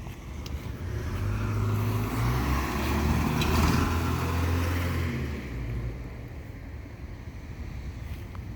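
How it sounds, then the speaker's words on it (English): A pickup truck drives past on a road by Highland Lakes, a steady broadband motor and tire rumble swelling to a peak mid-clip and then fading into wind-like outdoor noise, with no talking. "There's another pickup truck"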